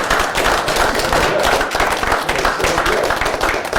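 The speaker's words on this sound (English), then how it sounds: "Big applause for him." An audience applauds a man who has just come out of a stage hypnosis demonstration: loud, dense clapping that fills the whole stretch without a break, with no talk over it.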